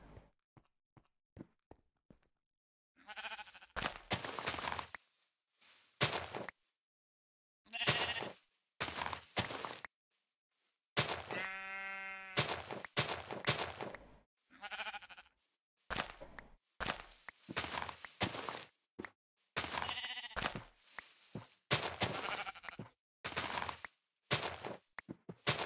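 A sheep bleats in Minecraft's Stoneblock modpack, a single harmonic bleat around the middle, surrounded by soft footsteps and short clicky game sounds.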